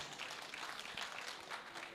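Dense, continuous applause from a crowd at an agroecology event in Uganda, a steady wash of clapping heard at a moderate distance.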